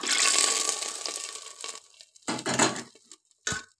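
Hot ghee with raisins is poured into kodo millet payasam, a loud rushing splash and sizzle that fades, followed by a few shorter bursts of pouring and clinking, close up.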